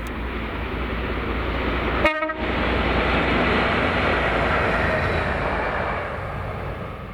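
A Class 56 diesel locomotive, 56096, passes hauling a freight train, with a short horn blast early on, then a sustained loud rumble and rail roar that slowly fades.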